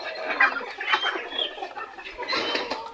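Cochin and mottled frizzle bantam hens, let out into the sun, cluck and chatter close by in overlapping bursts, with no other sound competing.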